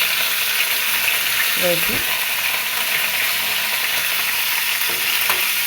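Red chilies and curry leaves fry in hot oil for a peanut chutney tempering, giving a steady close sizzle with a couple of spatula clinks. A voice speaks briefly over it.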